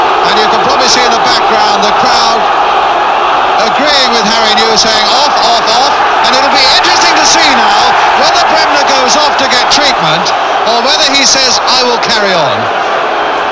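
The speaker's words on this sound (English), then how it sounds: "the crowd agreeing with Harry New, saying off, off, off" Football crowd at a Derby County v Leeds United FA Cup quarter-final, a loud, dense stadium roar with rhythmic chanting throughout, mixed with a commentator's voice.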